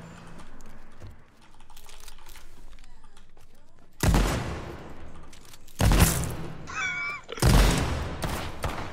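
Three loud sniper rifle shots ring out in the battle royale game H1Z1 King of the Kill, spaced a couple of seconds apart, with quieter keyboard clicking beneath.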